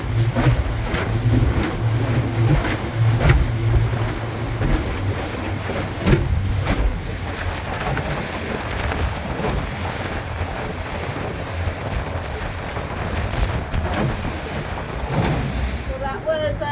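A small boat pounds across a choppy lake in Guatemala into a headwind, with heavy wind buffeting the microphone, slapping waves and a running motor, while voices talk faintly underneath.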